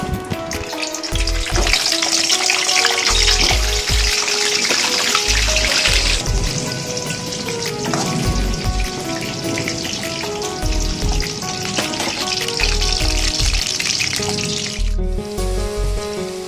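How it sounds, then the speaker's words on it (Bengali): Potatoes frying in hot oil for a Kolkata-style mutton biryani give a steady, close sizzle with a dense hiss all the way through. Deep thumps and clinks from the pan sit underneath, with music-like tonal layers running over it. "এরপর আলুগুলো একটু ভেজে নেব।"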